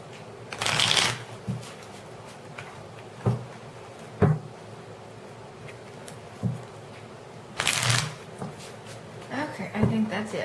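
Tarot cards shuffled by hand in two loud riffling bursts, with soft taps and handling clicks between them, close and clear.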